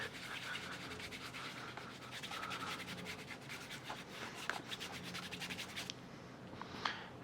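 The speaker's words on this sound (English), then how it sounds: "I slowly put wax back, but I really buff it with this part of my finger." Wax polish being buffed onto a leather shoe with a cloth over a fingertip, a soft, close rubbing and scratching in quick repeated strokes, faint and steady, with no talk.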